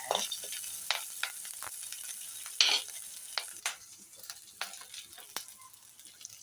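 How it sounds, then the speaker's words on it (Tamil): Mustard seeds and cashews spluttering in hot oil for a curd rice tempering, a quiet hiss broken by sharp irregular pops and crackles, with one brighter burst partway through; no talking. "இப்போ கடுகு வெடிச்சிருச்சு. முந்திரி பழத்தை போடுங்க."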